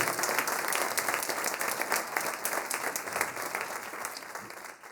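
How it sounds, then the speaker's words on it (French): A concert audience applauds the Cassel Harmony wind band at an autumn concert: dense, steady clapping fills the hall for about five seconds, fairly loud and even, with no voices standing out. "On peut les applaudir encore."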